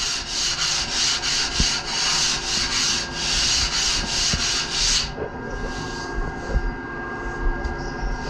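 Electric planer with a broken bearing shaping a board: a loud, harsh grinding whine with rough rasping pulses for about five seconds, then cutting off into a softer, rattling run-down.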